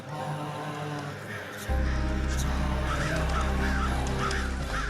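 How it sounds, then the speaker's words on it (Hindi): A flock of crows caws over a loud, steady backdrop of music or ambience, the calls coming as repeated harsh bursts through the middle and later part. "कौओं का झुंड आया हमें शुभकामनाएं देने।"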